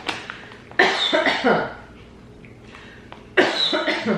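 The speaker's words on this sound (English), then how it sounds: "You know they're spicy when they make you cough." Two harsh, close coughing fits brought on by spicy Lay's potato chips, separated by a short pause with faint sounds in between.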